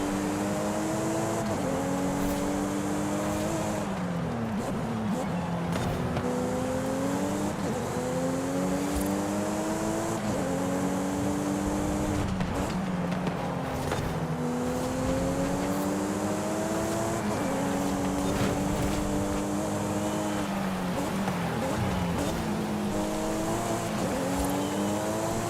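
Toyota Supra with a basically stock engine in Forza Horizon 5, revving repeatedly as it climbs through gears, each rising pitch sweep dropping at a shift, with tire noise, loud and close throughout.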